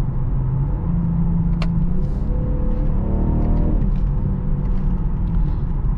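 A 2021-2023 BMW M440i Convertible engine drones steadily and loudly during paddle shifts in sport mode, its pitch climbing through a couple of rising sweeps before dropping back, with no voices.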